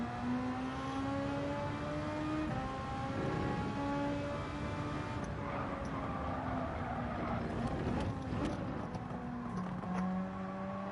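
F1 race car engines in Gran Turismo 7 at the German Grand Prix whine at high pitch, their tones gliding up and down through gear changes, with several cars layered in a continuous roar and faint talk underneath.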